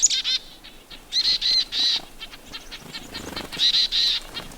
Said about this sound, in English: we've seen dozens of birds come into this area in what's known as a mobbing event